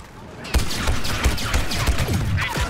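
Rapid blaster gunfire in a Star Wars video game, a dense fusillade of sharp repeated shots close and loud, with a voice talking over it.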